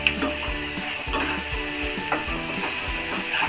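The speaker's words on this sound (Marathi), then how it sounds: "हे सगळं असं अगदी एकदम व्यवस्थित मिक्स करून घ्यायचं परतून थोडंसं." Soaked mung dal being stirred and sautéed in a pan with salt, with repeated scraping strokes of a spoon against the pan over a steady sizzle throughout, close and fairly loud.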